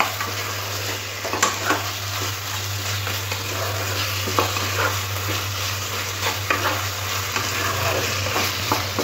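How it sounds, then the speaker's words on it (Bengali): Ridge gourd and potato being sautéed with spices in a pan, a steady close sizzle broken by repeated scraping stirs, with a low constant hum beneath. "এরপরে দিয়ে দিতে হবে ঝিঙে আর আলুটা, দিয়ে মশলার সাথে খুব ভালো করে কষে নিতে হবে।"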